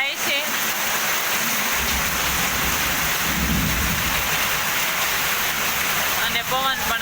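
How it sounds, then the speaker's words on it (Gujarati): Heavy downpour at a farm with thunder and lightning, a dense continuous roar of rain with rumbling thunder swelling in the middle, loud and close throughout. "તો ધોધમાર વરસાદ પડી રહ્યો છો. તમે જોઈ રહ્યા છો. અને વીજળી પણ થાય છે."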